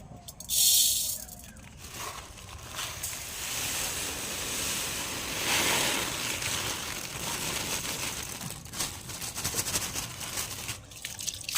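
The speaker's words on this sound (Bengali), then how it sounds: "সেই চালটা একটু ধুয়ে জলটা ঝরিয়ে নেব" Kamini atap rice being washed in water and drained, a continuous close sloshing and rushing pour with rattling grains, loud and steady throughout.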